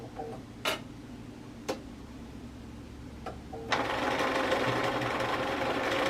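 A sewing machine runs a narrow tacking stitch along layered fabric. A few isolated clicks come first, then a steady fast mechanical whirring of stitching builds and carries on to the end.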